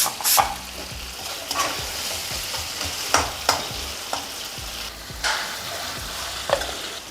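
Tomatoes sautéing in a pan as part of cooking onion sambar, with a steady sizzle broken by repeated sharp scrapes and clatters of stirring, close and fairly loud.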